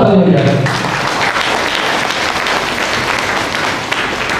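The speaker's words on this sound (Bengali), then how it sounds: "এখন জোর করে হাততালি হয়ে যাবে।" An audience at an RCM celebration gathering at a guest house in Mecheda bursts into loud, sustained applause, a dense wash of clapping that carries on evenly, with a voice briefly heard at the start.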